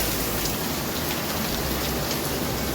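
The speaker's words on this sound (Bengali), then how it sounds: "এত জোরে বৃষ্টি হচ্ছে যে বলার মতো না।" A heavy monsoon downpour pounds outside with a loud, dense, unbroken roar of rain and no one talking.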